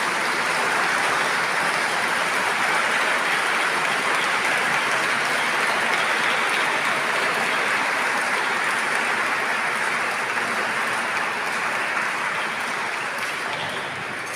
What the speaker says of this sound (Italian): vi chiederei un applauso in ricordo di Monsignor Sergio Manfroi